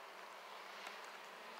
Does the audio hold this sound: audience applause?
no